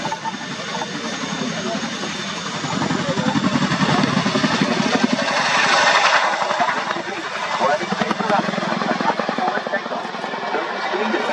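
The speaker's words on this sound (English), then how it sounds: "The Chinook's two powerful Honeywell engines and tandem rotor design enable it to climb or accelerate very quickly" An RAF Chinook tandem-rotor helicopter with two Honeywell engines flies a role demonstration at an air show, its loud, steady engine and rotor roar swelling in the middle, with a commentator speaking over it throughout.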